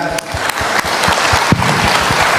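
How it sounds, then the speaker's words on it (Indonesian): Steady crowd applause at a public event with Indonesia's agriculture minister, close and fairly loud throughout, with voices mixed into the clapping. "Tepuk tangan."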